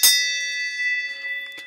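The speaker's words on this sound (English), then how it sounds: "I'm going to ring the bell," A bell is struck once, close and loud, then rings out with a long, steady, shimmering decay and faint background noise toward the end.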